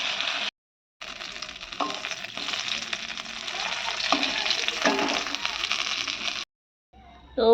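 Bhola fish pieces frying in oil in a home kitchen pan, a steady bright sizzle with occasional scrapes and stirring clicks, briefly cutting out near the start and end.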